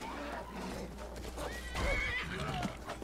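A horse in the video game Skyrim gives a clear, close whinny with rising and falling pitch, over soft hoof clops and ambient game sound.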